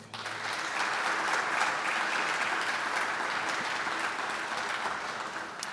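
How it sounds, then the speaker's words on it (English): Audience applause at a stadium partnership announcement in Atlanta, a dense, sustained wash of clapping from a large crowd, steady and even throughout with no voices on top. "please give a big round of applause to my friend and a true champion of the city of Atlanta, Mr. Arthur Blank"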